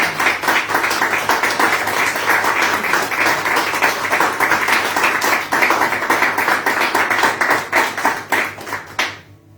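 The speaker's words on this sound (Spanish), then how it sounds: "Denle un fuerte aplauso al Señor" Church congregation applauding during a sermon, loud dense clapping sustained for about nine seconds before fading and stopping abruptly at the end.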